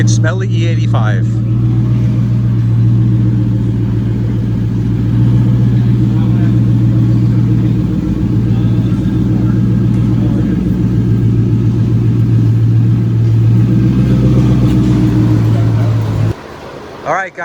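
Single-turbo 2016 Mustang GT V8 running E85 on a dyno, a loud sustained low-pitched engine drone and rumble holding steady for about sixteen seconds before dropping off abruptly.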